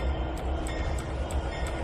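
A train in Trainz 19 rolls along with a steady rumbling drone and regular faint clicks from the wheels passing over rail joints, continuous and fairly loud throughout.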